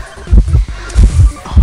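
A heartbeat warning sound from the game Identity V, made of loud, deep thumps in a quick uneven rhythm of doubled beats.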